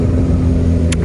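A Kawasaki ZX6R motorcycle cruising at about 30 in sixth gear, its engine giving a steady low drone throughout with constant wind rush and no revving or gear changes.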